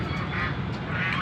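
Domestic ducks, caught and about to be set free, give a short burst of hoarse quacking close by over a noisy outdoor background, lasting only a moment.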